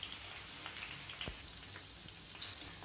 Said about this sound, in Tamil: பேபி கார்ன் எடுத்து இதில் போட்டுக்கோங்க